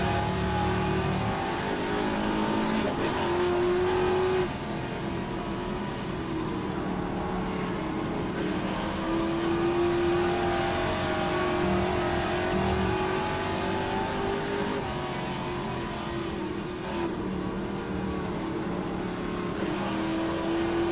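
A classic Trans-Am race car, one of the Dodge Chargers, Plymouth Barracudas and Challengers on the Mosport circuit, roars and revs hard under acceleration, a loud, continuous onboard engine note rising and dipping through the gears for the whole stretch.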